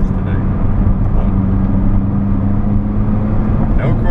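A McLaren 570S driving on an open road: steady, close engine and tyre roar with a low droning hum, continuous and even throughout.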